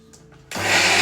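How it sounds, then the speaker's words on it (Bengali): A blender motor kicks on abruptly after a quiet moment and roars loudly and steadily while blending boiled peas, a dense whirring hum close by. "এই মেশিনের মধ্যে দিয়ে মিক্সড করে দেবো"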